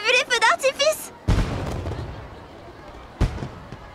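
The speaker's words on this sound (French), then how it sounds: "Ça faisait un bail que j'avais pas vu les feux d'artifice." Fireworks in the anime Witch Watch go off as two sharp booming bursts, each fading into a crackling rumble, after a voice is heard talking at the start.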